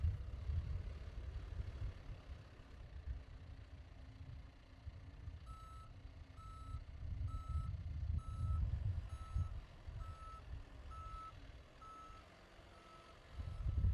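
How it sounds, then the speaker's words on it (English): Steady series of evenly spaced reversing beeps from a truck, moderately loud over a low idling engine rumble. "The backup alarm alerts bystanders that your machine is changing directions."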